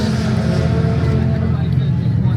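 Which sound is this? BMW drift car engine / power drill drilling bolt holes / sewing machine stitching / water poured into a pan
BMW drift car engine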